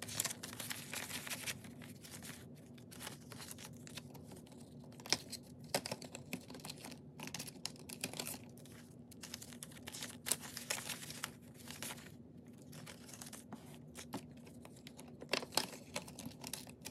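Paper cash envelopes are pulled apart and unstuffed, with soft crinkling, rustling and light tapping scattered irregularly across a quiet, close-up setting.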